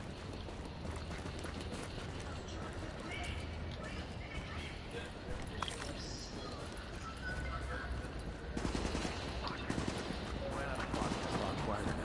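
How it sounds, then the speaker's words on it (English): Video game gunfire, a rapid crackle of distant shots and bursts spread across the scene, faint and busy beneath a steady background of game noise, growing denser toward the end. "Things are shooting me over there."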